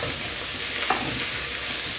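Feijoada with calabresa sausage and pork loin is stirred in a pot, giving a steady wet sizzle and bubbling with a single sharp scrape of the spoon partway through, close up with no talking.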